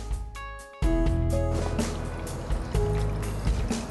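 Wine pouring from a bottle into a glass, a 2007 Quemquemt Merlot reserve at an Okanagan vineyard, with a steady liquid gurgle and trickle running close and continuous after a brief quiet start.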